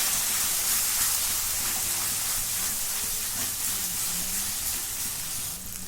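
Gram flour being roasted with tomato in a pan, a constant loud hissing sizzle with faint stirring underneath, close and steady, alone without talk.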